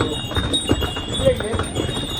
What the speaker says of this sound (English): there's a lot of horses in here, so I'm trying not to step on it with my shoes